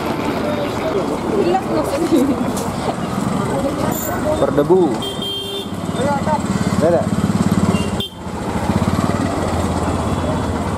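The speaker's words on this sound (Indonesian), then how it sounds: "Jadi gini loh suasana terminal bus di Bangalore, namanya Majestic ini." Busy ambience at Majestic, Bangalore's main bus terminal, under renovation: a continuous rumble of idling engines and traffic with voices talking over it nearby, briefly dipping before resuming.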